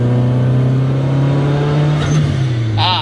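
A 600-horsepower tuned Toyota RAV4 revs hard under acceleration, its loud, steady engine drone holding strong and rising in pitch before a brief high whine near the end, heard from inside the cabin with no talk.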